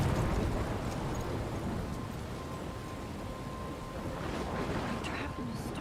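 A thunderstorm in the video game Life is Strange: a dense, continuous roar of rain with low rumbling underneath, loud and steady throughout with no pauses.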